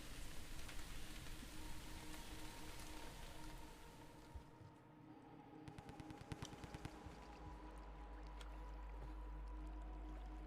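Steady rain patters in the Downpour video game, faint and even, with a brief cluster of sharper ticks midway and a low rumble swelling near the end.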